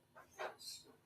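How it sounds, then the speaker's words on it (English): A pet dog gives a few quick, quiet barks and yips indoors, one short bow-wow burst in the middle, with no talking. "Sorry about my dog."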